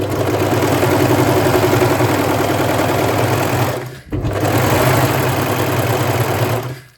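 A Brother 1034D serger overlocker runs loud and fast while its blade trims fabric, a dense rattling mechanical whir that stops briefly near the middle and then resumes before cutting off.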